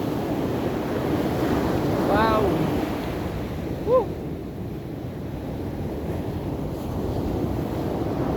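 Powerful ocean waves rumble continuously at the San Juan, La Union shore, a loud, even roar mixed with wind noise, while a person briefly exclaims twice over the surf.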